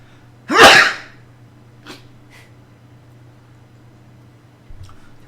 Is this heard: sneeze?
yes